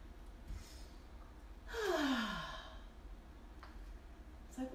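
Deep, audible breath drawn in and released during a slow-flow yoga pose, a single long sigh-like exhale rising and falling over about a second, close and soft in a quiet room.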